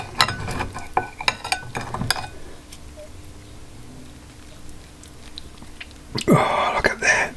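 Chewing of chicken salad with camembert and asparagus, soft close bites and mouth sounds at first, then a quiet stretch, ending in a brief louder clatter.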